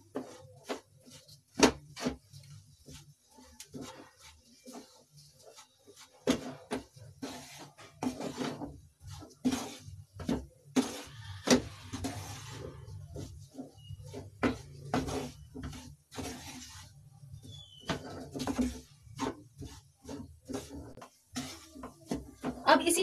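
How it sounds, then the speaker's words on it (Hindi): Wheat flour roasts in ghee in a pan while a spoon stirs it, giving repeated close scrapes, taps and clinks in an uneven rhythm over a soft frying hiss. "इसे अच्छे से ब्राउन होने तक भूनूंगी आटे को मैं"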